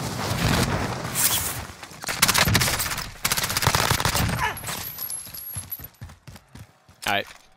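Rapid bursts of automatic gunfire from a shooter video game, with loud sniper-style shots cracking close, dense volleys at first and then sparser single reports, with talk running over them.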